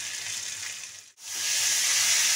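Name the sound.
papaya pieces added to hot pan, frying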